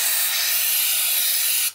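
An aerosol spray can hisses in one long, loud, steady burst onto Zündapp C50 moped fork parts in a workshop, then cuts off abruptly.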